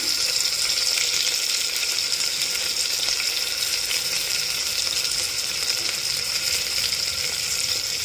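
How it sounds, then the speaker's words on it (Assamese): Cumin seeds sizzle in hot oil inside a pressure cooker for pulao, a steady, dense crackling hiss that holds close and loud throughout with no talking. "জিৰা কেইটা দি দিলোঁ মই।"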